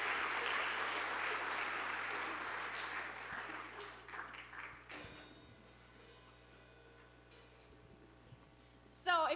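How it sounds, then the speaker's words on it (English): Applause from a school spring band concert audience, loud clapping for the first four seconds that fades away, leaving a quiet room with faint rustles and a sharp clatter at the end. "Can we get a round of applause for them?"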